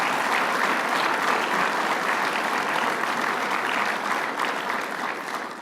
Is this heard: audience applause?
yes